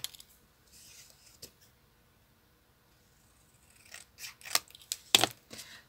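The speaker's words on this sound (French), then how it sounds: "je vais découper un petit peu là et de l'autre côté." Scissors cut paper for an advent calendar craft, a few soft snips early on, then a quicker cluster of crisp close cuts toward the end, alone without talk.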